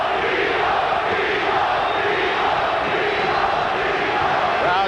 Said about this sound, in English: Crowd chanting, Tito,